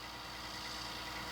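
A tractor engine pulling a seeding complex across a field hums steadily and faintly at a distance, a continuous mid-to-low idle-like drone with no speech.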